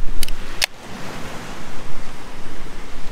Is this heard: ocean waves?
yes